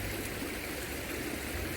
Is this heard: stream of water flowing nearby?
yes